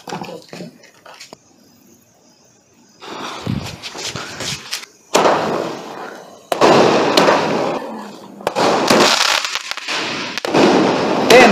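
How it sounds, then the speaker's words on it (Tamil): Multicolour 30-shot firecrackers for Deepavali burst overhead in a rapid run of loud, close blasts with crackling tails, after a quieter stretch of faint pops at the start. "ஏய் அந்த பட்டாசு வெடிக்கிறப்ப பார்த்தியா"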